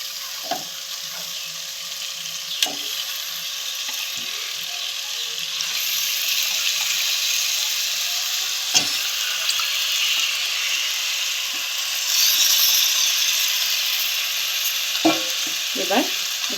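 Marinated chicken masala pieces sizzle and fry steadily in a hot pan, with scattered scraping knocks from stirring; moderately loud and close, no voices.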